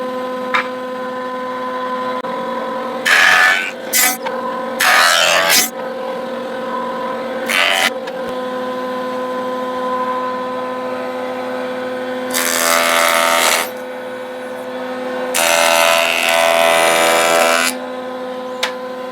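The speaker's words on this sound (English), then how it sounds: "I'm going to put a chamfer on that, so it'll be okay" A wooden piece is chamfered with hand and power tools, heard as short bursts of a power tool whirring and cutting, separated by quieter stretches of a faint steady hum.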